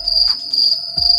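A cricket chirps loudly and close in a steady, shrill trill that breaks off briefly, like a sound effect set against silence.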